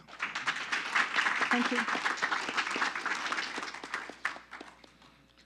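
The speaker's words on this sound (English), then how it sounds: "Can we give her a big round of applause?" Applause fills a city council meeting chamber, a crowd clapping steadily for about four seconds before fading out, with a brief spoken thanks over it.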